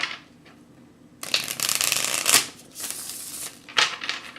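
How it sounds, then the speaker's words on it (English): Tarot cards are shuffled by hand up close, a dense rapid riffling and sliding that starts abruptly and runs in uneven bursts, with no talk over it. "I'm going to shuffle a little bit more on camera."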